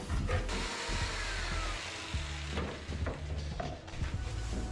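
A jigsaw cutting a circle out of a wooden template, a loud continuous buzzing motor with rough, shifting blade rasp as the cut progresses, close and alone.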